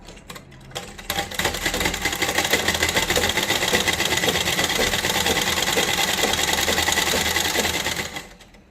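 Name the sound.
sewing machine stitching a straight seam on a blouse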